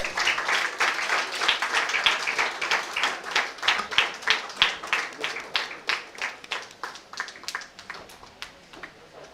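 Students applauding at a college function in Papanasam, Tamil Nadu: a burst of moderately distant clapping that starts dense and gradually thins into scattered, separate claps before fading.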